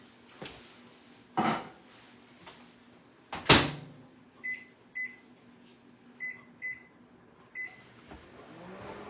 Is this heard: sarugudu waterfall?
no